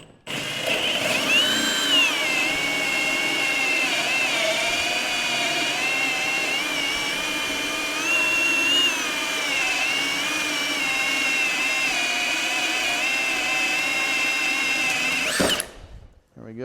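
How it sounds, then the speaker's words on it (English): A Milwaukee hole saw on a drill set to fast speed cuts a hole in one steady, loud, high whining grind, pitch wavering slightly as it bites, then stopping abruptly at the end. "and I'll drill one more hole right here."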